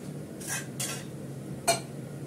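A lid settling onto a pot of fish curry: a few quick, faint metallic clinks against a quiet kitchen background, the last one slightly sharper.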